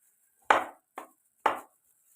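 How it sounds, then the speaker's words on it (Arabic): A small knife tip stabs raw whole chicken three times in separated, close, soft thuds. There is no talking. "هبتدي انغص كده الفراخ بطرف سكينه كده صغير"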